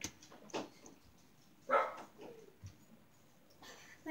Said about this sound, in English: My dog won't stop barking.